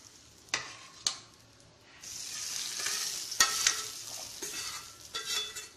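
Lentil curry with sautéed tomatoes stirred in a pan, starting with two sharp utensil knocks, then a steady sizzle with repeated scraping and mixing strokes, close by and moderately loud.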